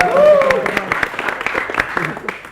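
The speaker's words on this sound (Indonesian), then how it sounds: "Tepuk tangan dulu." An audience claps at a cultural performance event, a burst of scattered applause following a brief vocal exclamation at the start, with voices mixed in under the clapping.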